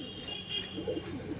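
Andhra pigeons in a loft give soft, low cooing calls, a few brief coos close by and faint against a quiet background with a steady high tone.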